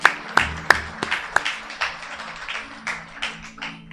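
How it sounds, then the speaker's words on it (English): A smattering of claps rings out at a Hindu religious katha session, a few sharp hand claps at first, then scattered clapping that thins out. "Our Pandit Adesh, let me give him a round of applause, please."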